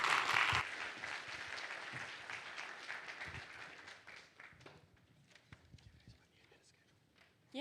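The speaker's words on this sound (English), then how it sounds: "Round of applause." Audience applause at a Rust Forge developer conference in Wellington, New Zealand, a dense burst of clapping that is loudest at the start and thins out over several seconds.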